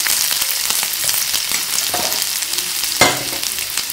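Finely chopped onions with green chilies, ginger and a pinch of salt fry in a pan for dal khichdi, giving a dense, constant sizzle with occasional stirring scrapes and one sharper clatter, close and without talking.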